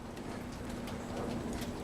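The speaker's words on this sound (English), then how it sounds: "It's raining." Rain falls outside on a dreary day, a soft, continuous patter with scattered drops heard from indoors at a moderate distance, alongside a faint steady hum and no speech.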